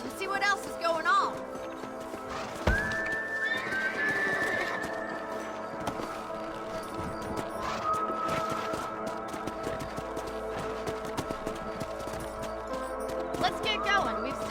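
Horses in the Red Dead Redemption video game whinny loudly and clop their hooves amid busy game sound and music, with voices talking over much of it.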